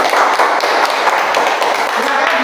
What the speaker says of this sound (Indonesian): Oke, tepuk tangan untuk Zara.